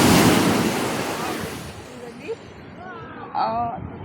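Sea waves at Ajman Beach in the UAE, a loud surf wash that fades out, with wind buffeting the microphone and faint voices toward the end.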